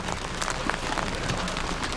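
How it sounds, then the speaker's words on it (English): Large hail pelting down during a tornado storm near Gainesville, Texas, a dense continuous patter of hard impacts on surfaces, steady and close with no talking. "Large hail raining down from the sky here."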